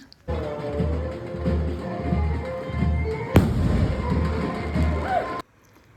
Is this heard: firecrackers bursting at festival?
yes